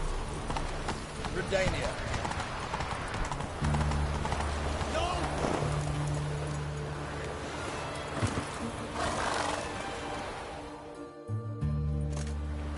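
A horse gallops in The Witcher 2, its rhythmic hoofbeats running under game sound and a voice calling out, with the pace holding steady across the stretch.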